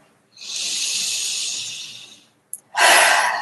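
A long, loud breath in is drawn through the nose during a tapping exercise, followed after a brief pause by a strong, forceful exhale, close and alone.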